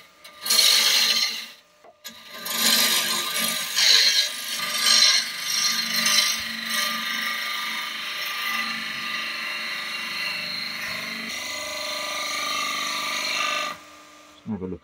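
A turning tool cuts a wooden bowl on a lathe, producing a loud, rough rasping scrape that runs steadily for most of the stretch, with a short gap early on and a sudden stop near the end.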